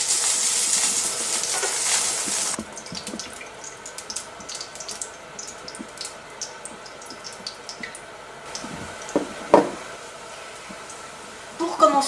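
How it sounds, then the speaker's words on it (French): Aubergine slices frying in olive oil, a soft steady sizzle after an opening burst of running water, with clatters and stirring knocks and a person talking over it. "Pour commencer, vous faites frire vos rondelles d'aubergine dans de l'huile d'olive, exclusivement de l'huile d'olive."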